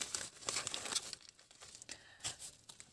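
Plastic packaging of a parcel of earring blanks crinkles and rustles up close as it is unpacked, in irregular bursts of crackling with no talking.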